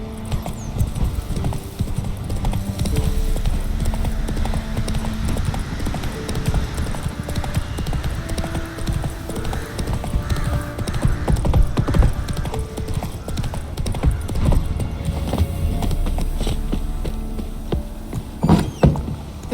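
Geralt's horse Roach gallops in The Witcher 3, steady rapid hoofbeats thudding close and loud throughout, with a brief whinny and a voice speaking over the galloping.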